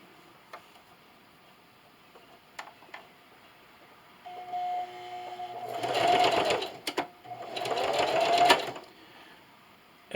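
A sewing machine stitches binding onto a quilted canning mat in two bursts of rapid mechanical whirring, preceded by soft handling clicks and a faint tone; close and fairly quiet, with no talk.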